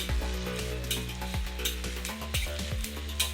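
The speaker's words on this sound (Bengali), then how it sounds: "মৌরিগুলোকে এবার আমি একটু ভেজে নিচ্ছি" Fennel seeds frying on a hot tawa, a steady near sizzle with faint scraping and clicking from stirring, no voices.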